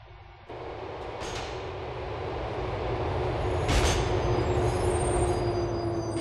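Subway train pulling toward Castle Gardens Station in GTA4, a loud continuous rolling rumble with a faint high whine, rising slightly in volume with a brief brake-like burst partway through.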